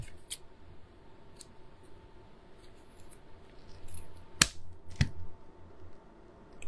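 Scissors snipping through a loop of craft material on a Halloween gnome candy holder, heard as two sharp, close clicks a short moment apart over a faint room hush, with no talking.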